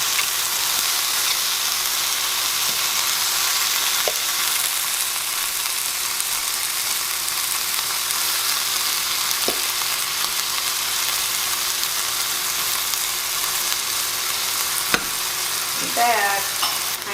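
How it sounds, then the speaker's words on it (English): Steak, cabbage, ginger and garlic stir frying in a pan, giving a steady, loud sizzle with occasional stirring scrapes and clicks throughout, with no voices. "I'm going to add our meat and cabbage and ginger and garlic at this time."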